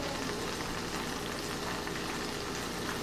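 Sliced yellow summer squash and onion frying in a pan, giving a steady, dense sizzle and crackle without pause, close and moderately loud, with no talk.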